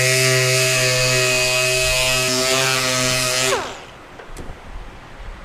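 A powered sander works car clearcoat with 80 grit sandpaper, a loud steady whine with a strong hum that runs for a few seconds and then cuts off abruptly, leaving faint shuffling.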